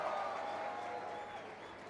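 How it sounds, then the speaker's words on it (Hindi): Audience applause for guest actor Saurabh Shukla at a live Hindi talk event, a steady wash of clapping and crowd noise that fills the whole moment with no pauses. "एक बार और जोरदार तालियां बजाएं"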